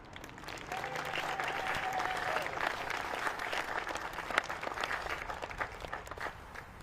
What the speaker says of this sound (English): Please join me in a round of applause for the year's wonderful music